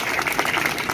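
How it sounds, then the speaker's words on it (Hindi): Dense applause from an audience at a coaching class annual function, a thick wash of many hands clapping together for a brief moment. "एक बार जोरदार ताली बजा दीजिए।"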